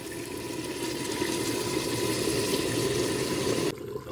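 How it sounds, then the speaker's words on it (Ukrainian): Boiling water pours steadily into an Afghan cauldron of frying onion and carrot for basmati pilaf, a continuous close rushing splash that stops abruptly near the end. "Так, вливаємо кипяточок."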